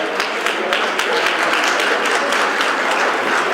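Dense applause fills an awards ceremony hall for a construction industry award, steady and loud from a large audience, unbroken over several seconds.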